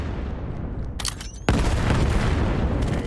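Grenade blasts in a competitive team shooter match: a sharp crack is followed by a loud, sustained booming roar that fills the rest of the moment, with no talk over it.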